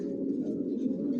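A racing pigeon in a loft cooing, a low, soft, steady burbling coo heard close up and alone for about a second.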